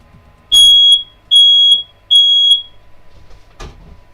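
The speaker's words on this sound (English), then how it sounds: "That was the fire alarm, but don't worry." A smoke alarm sounds three loud, piercing beeps in an even rhythm, each lasting about half a second, followed by a sharp knock or thud.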